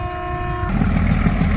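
A train horn toots steadily, then gives way to the broad rumble of a train rolling past nearby, loud and continuous.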